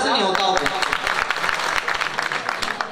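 Audience at a Hindi kavi sammelan (poetry recital) clapping, a burst of dense applause under and around a speaking voice, fading into scattered claps.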